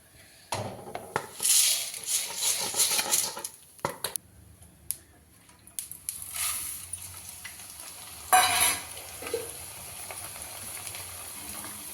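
Flattened rice (avalakki) fries a little at a time in a pan for avalakki oggarane, giving soft sizzling bursts, scraping stirs and occasional clinks of a utensil on the pan, close up, with quiet pauses between.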